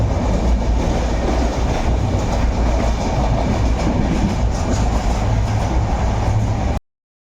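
A passenger train runs along the rails with a loud, continuous rumble and rattle of carriage wheels, heard from close by inside the moving train until the sound cuts off abruptly.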